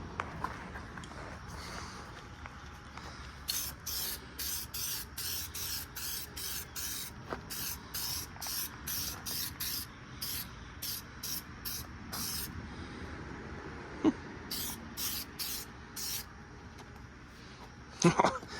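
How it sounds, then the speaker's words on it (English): Short repeated aerosol bursts spray a sealant coat onto restored headlights of a Toyota 4Runner, a rapid series of crisp hissing puffs in rhythmic strokes, fairly faint and close, with a few clunks near the end. "apply one medium wet coat, allow the first coat to dry 3 to 5 minutes, and then follow it with a second coat to completely seal the headlights"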